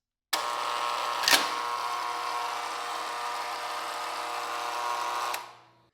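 Electric hair clippers switch on abruptly with a steady buzz, droning at a constant pitch for about five seconds with a brief clack, then winding down and stopping.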